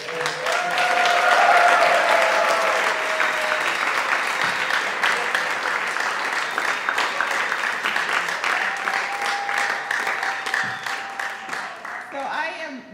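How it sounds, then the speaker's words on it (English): An audience gives a big round of applause for Melissa and Kristen at a summer jazz workshop symposium, a steady dense wash of clapping that swells early, holds for several seconds and then tapers off near the end. "can we just give a huge, big round of applause to Melissa and to Kristen?"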